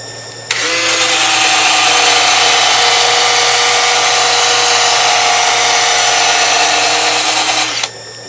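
Turned wood is sanded at 600 grit on a spinning lathe, a loud, steady high whine holding evenly for about seven seconds before cutting off.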